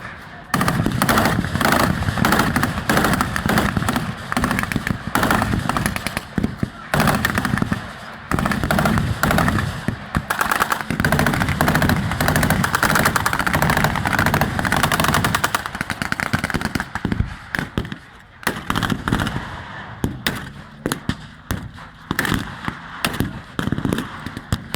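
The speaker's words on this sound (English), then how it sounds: "They fall down to fire once again, covering each other as they retreat to their own line." Dense bursts of blank gunfire and machine-gun rattle fill a WW2 battle re-enactment at an outdoor military show, loud and continuous with rapid overlapping shots and occasional heavier thumps.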